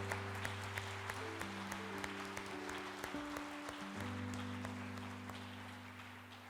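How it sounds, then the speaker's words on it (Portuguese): Church congregation applauding after a call to praise, a steady wash of clapping over a sustained organ or keyboard chord bed throughout. "Dê um forte aplauso àquele que é digno."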